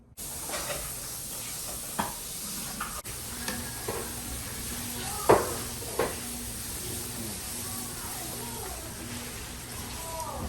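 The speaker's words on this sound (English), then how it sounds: "So we're deep frying them until they're golden brown." Oil hisses and sizzles steadily as samosas deep-fry, with scattered light clinks and taps of utensils, and faint voices in the background.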